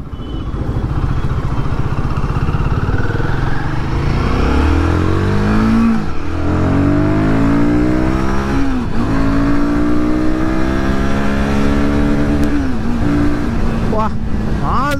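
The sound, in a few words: Royal Enfield Guerrilla 450 motorcycle engine revving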